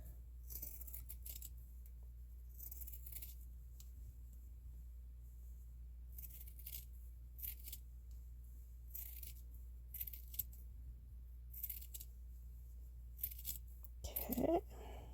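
Scissors cutting felt flower shapes out of a wool sweater, a series of brief, faint snips in irregular bursts over a low steady hum, with a louder rustle near the end.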